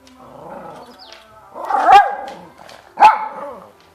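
A dog reacting to a Christmas tree gives a drawn-out howling whine followed by two sharp, loud barks close by, with quiet moments between.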